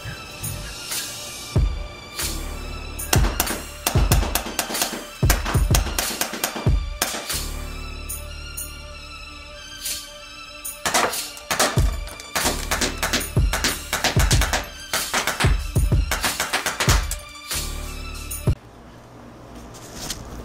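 A Colt CQBP 45 CO2 airsoft pistol being fired, giving many sharp close snaps, some single and some in quick runs, with short pauses between strings and no talk.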